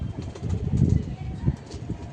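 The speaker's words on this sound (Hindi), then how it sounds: "भाई ये कबूतर हैं, मैं कबूतर दिखाता हूँ। ये देखो मेरे पीछे उड़ रहे हैं" Pigeons cooing in soft, low, throaty bursts with fluttering wings nearby, blended into a busy background murmur.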